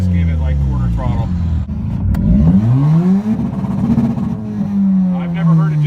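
A car engine revs at about quarter throttle, its harmonic drone rising and sweeping up and down in pitch, loud and close, with a voice talking over it.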